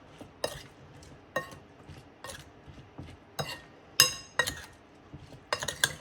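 Plantain slices tossed and stirred with oil in a glass bowl produce repeated clinks and scraping knocks at an irregular pace, close and fairly crisp, with no talking.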